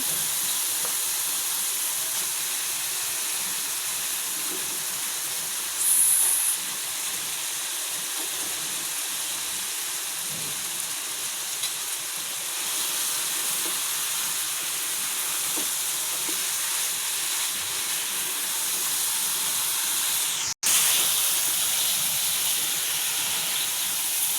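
Quail pieces fry with spices in an oily pan, a steady close hiss of sizzling that runs on evenly, broken by one brief rattle and a sharp clack near the end.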